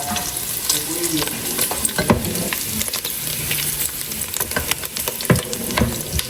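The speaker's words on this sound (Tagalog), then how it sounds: "Ang mantika po nitong taba." Pork fat frying and rendering down into cooking oil in a pan, a dense close sizzle with crackles, punctuated by frequent scraping stirs.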